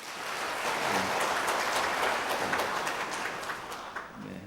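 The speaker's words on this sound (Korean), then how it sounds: "여러분들 환영의 박수 부탁드리겠습니다." A church congregation at a Sunday worship service claps in welcome, a soft, even wash of many hands that swells and then gently fades.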